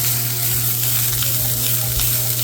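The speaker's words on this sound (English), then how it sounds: "so that way you can get a nice sear on them" Steak sears in a hot pan with a loud, close, unbroken sizzle and crackle that holds steady throughout, with a faint low hum underneath and no voices.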